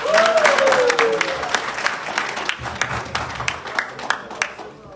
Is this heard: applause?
yes